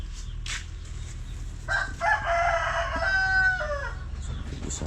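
A rooster crows once, loud and near, in a backyard flock of five chickens and a duck, following a couple of brief clucks, with a low ambient hum throughout.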